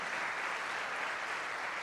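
A youth conference congregation applauds in a church setting, a steady, dense wash of clapping that holds at an even level for a couple of seconds with no voices over it.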